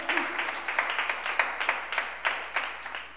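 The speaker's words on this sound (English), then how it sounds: "Let's give Cole a big round of applause." Congregation clapping at a Sunday church service, a fairly close, sparse round of applause with distinct individual claps in an uneven rhythm, loud and unaccompanied by speech.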